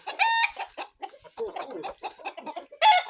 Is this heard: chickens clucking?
yes